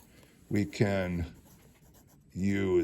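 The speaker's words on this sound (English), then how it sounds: "I'm just going to write over here." A marker squeaks and scratches across a board during a math lesson, running in short strokes beneath a teacher's voice, which talks over much of the writing.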